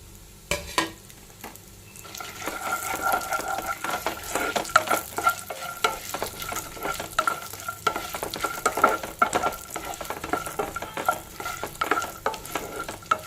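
Raisins fry on a slow flame for sweet vermicelli. A soft, steady sizzle runs under repeated scraping stirs from a spoon in the pan, with no talking.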